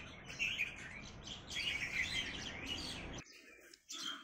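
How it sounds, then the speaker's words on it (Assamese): Small birds, bulbuls and mynahs, chirp and call from a flowering mimosa tree in the morning, with a busy, faint, continuous twittering at a distance and a brief dip near the end. "চৰাই মৌ চুহি আছে।"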